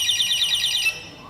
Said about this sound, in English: Now you see, now it's alarming.